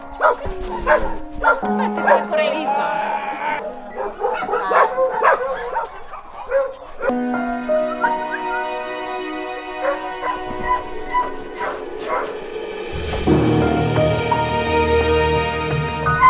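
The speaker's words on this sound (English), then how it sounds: "See a lot of setters." Shelter dogs, setter hunting dogs among them, keep up overlapping barks, yips and whimpers throughout, close and loud, with someone talking over them.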